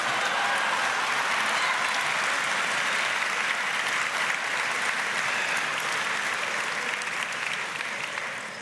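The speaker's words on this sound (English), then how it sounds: "how about a round of applause for Kim Cattrall?" An audience at a formal evening event gives a sustained round of applause, a dense, even wash of many hands clapping that holds steady for several seconds before tapering slightly.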